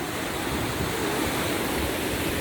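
A river rushes beneath a footbridge at Lynton and Lynmouth in the valley; the steady, dense roar of flowing water stays loud and close throughout, with no voices.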